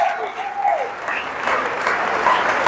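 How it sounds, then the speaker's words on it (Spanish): A church congregation breaks into applause, a broad wash of many hands clapping that swells and holds, with faint voices mixed in. "dele un aplauso"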